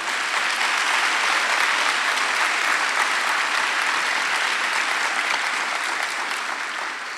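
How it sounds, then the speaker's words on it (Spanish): A church congregation claps together during a Spanish-language sermon, a thick, sustained applause that stays loud and even before easing slightly at the end, with no voices on top. "dale un aplauso al Señor"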